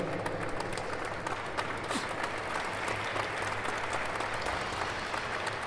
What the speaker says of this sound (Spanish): quisiera agradecer y que les den un aplauso a la licenciada Alma Castillo